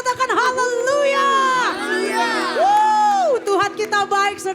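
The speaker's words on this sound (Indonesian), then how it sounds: "Kita berikan tepuk tangan yang dahsyat, yang terbaik, sambil kita bersorak-sorai katakan haleluya." A church congregation at a Sunday service cheers loudly, with overlapping shouts and whoops from many voices close by, rising and falling continuously.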